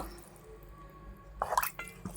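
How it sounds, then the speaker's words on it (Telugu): After a quiet start, a short burst of water splashes into a pressure cooker holding gongura egg curry, followed by a few drips. "ఇప్పుడు ఇందులోకి నేనైతే కుక్కర్లోనే నీళ్లు పోసేసుకుని ఇందులో అయితే పోసేసుకుంటున్నాను."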